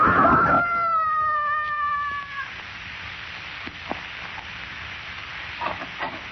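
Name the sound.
man screaming as he falls, radio drama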